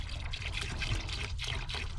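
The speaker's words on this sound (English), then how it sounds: "So I poured about, yeah, that much in it." Degreaser poured into the water-filled tank of an ultrasonic cleaner makes a close, continuous trickling pour with soft splashing, heard alone for a couple of seconds.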